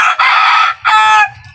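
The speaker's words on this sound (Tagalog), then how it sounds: "Maingay yung manok ko." A bulik rooster kept as a snare decoy crows loudly and close by in two strong drawn-out calls separated by a short break, with no talking.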